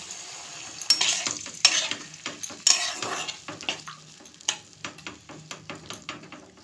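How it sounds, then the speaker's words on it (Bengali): Chilli powder, garam masala and water simmer and are stirred in a pan, giving repeated close scrapes and clinks of a spoon against metal over a low sizzle that fades between strokes. "সামান্য একটু লঙ্কার গুঁড়ো আর গরম মশলার গুঁড়ো দিয়ে জল দিয়ে একটু কষাবো হালকা হাতে"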